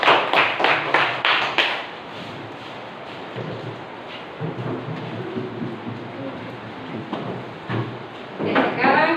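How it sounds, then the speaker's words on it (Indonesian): A classroom group claps for a student team after its presentation during teacher training: a brisk burst of hand claps opens, talk follows, then a few claps return near the end. "tepuk tangan dulu untuk kelompok 1"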